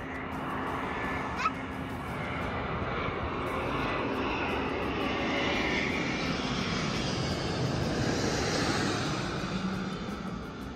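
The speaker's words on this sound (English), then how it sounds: "The place at the airport where you watch the planes take off and you watch the planes come in." A fixed-wing airplane roars as it takes off at Melbourne's airport, heard from a viewing area; the engine noise swells steadily and stays loud and broad for the whole stretch, with a brief clack early on.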